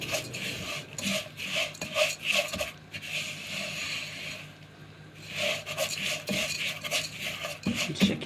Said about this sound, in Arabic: هنفضل نقلب طبعا لحد ما تحمر